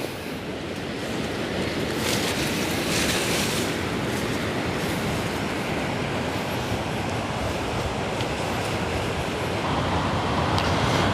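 Sadhery waterfall in Samahni gives a steady, unbroken roar of rushing water that stays loud and close throughout, with no voices over it.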